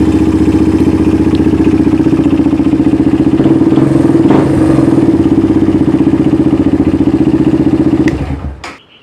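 A Suzuki DR200 motorcycle engine runs steadily and loud at close range for about eight seconds, a constant throbbing drone before cutting off abruptly near the end.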